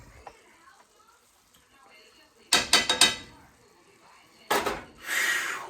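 A knife chops burger meat on a kitchen board in two clusters of quick, sharp, close taps separated by a pause, with quieter clinks and background murmur between them.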